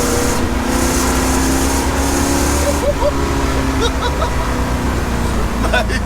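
A 1969 Pontiac Trans Am Ram Air III with a 6.6L V8 rumbling under power on the road, a loud, deep, continuous engine drone close by, with people talking over it.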